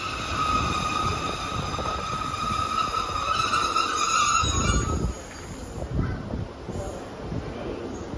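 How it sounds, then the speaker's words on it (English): A Transport for Wales train pulls out of Cardiff Queen Street station, its engine droning over a steady rumble of wheels. A sustained drone holds for about five seconds, then drops to a quieter rolling clatter. "Departing out now is the 1600 Transport for Wales service from Barry"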